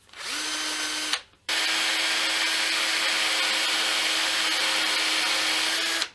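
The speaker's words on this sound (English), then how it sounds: "Tiny buffing wheel on yeah, something like that" A tiny rotary buffing wheel polishes a guitar neck heel, a steady high-pitched motor whine that briefly spins down and stops, then starts again and runs evenly to the end.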